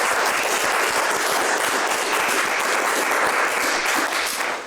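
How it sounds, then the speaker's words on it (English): A conference audience gives a sustained round of applause, dense and even clapping from many hands that carries steadily before tapering at the end. "Everybody give yourselves a round of applause."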